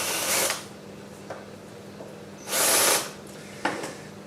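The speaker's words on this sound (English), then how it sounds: "I've just got a bit bigger masonry drill bit in here. So we'll just take the edge off" A power drill with a larger masonry bit briefly whirs in short bursts while deburring holes in steel wrenches, two longer runs and a few quick taps, close and fairly loud against a steady low hum.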